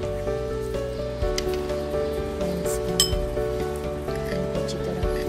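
Aloe vera gel is stirred in a bowl, giving repeated light clinks and wet scraping taps of a utensil against the dish, irregular and close, with a faint tonal hum underneath.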